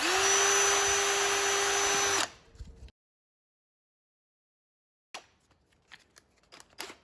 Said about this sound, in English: I'm gonna put them in my drill.